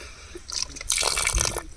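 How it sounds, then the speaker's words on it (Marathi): Water poured onto a newly planted banana sapling in the soil, a short close splash and gush of liquid lasting about a second after a few faint drips. "एवढं पाणी ओतलं त्याला"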